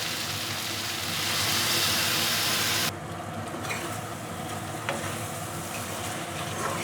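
Loud steady sizzling of mutton frying in a pan, with a sharp drop in hiss partway through as water is poured in, leaving a softer bubbling sizzle that continues close and without talk.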